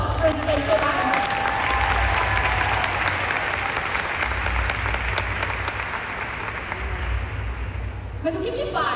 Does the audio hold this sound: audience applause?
yes